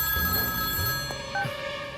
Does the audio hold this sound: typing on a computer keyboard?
no